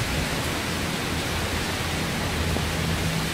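Moderate rain falls during a tropical Central American winter, softened by swirling wind. A constant broadband wash continues unbroken for several seconds with no one speaking.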